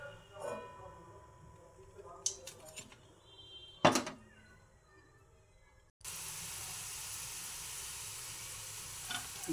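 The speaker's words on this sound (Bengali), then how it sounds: "এই যে আমার মোমো ফ্রাই করা হয়ে গেছে" Cheese momos deep frying in hot oil make a soft intermittent crackle, then loud and steady sizzling, with a couple of sharp clunks of utensils against the pan before it.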